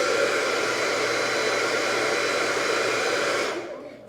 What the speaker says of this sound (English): So I'm gonna go ahead and take my blow dryer and try and do that for you